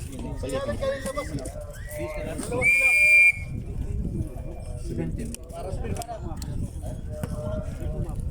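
A referee's whistle gives one sharp, loud blast during a 4-on-4 basketball tournament game. Players talk and shout nearby, and the ball bounces and shoes squeak on the court.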